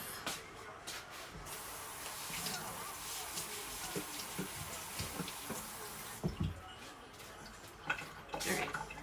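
Tap water runs steadily to rinse shrimp for sinigang, a broad, even hiss that fills most of the stretch before breaking into a few splashes and clatters near the end.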